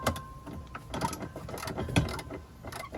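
A socket wrench ratchets as it loosens a bolt on a washing machine motor, giving close, uneven mechanical clicks and grinding strokes in a short burst without talk.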